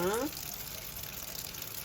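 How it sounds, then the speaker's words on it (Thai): Running water rinses vegetables after a salt-water soak, a steady soft splashing and gushing close by, with a brief voice at the start. "แช่น้ำเกลือเสร็จแล้วก็ล้าง"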